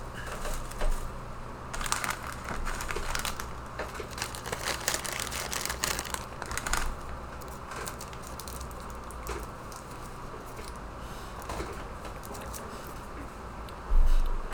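Crinkly plastic cough drop wrapper rustles and crackles steadily for several seconds, close to the microphone, followed by a short louder thump at the end.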